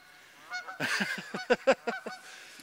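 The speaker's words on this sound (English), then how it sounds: "Resident geese are not happy with us." Several resident geese honk in a loose series of loud, nasal calls, close by beside a pond, with brief gaps between bursts.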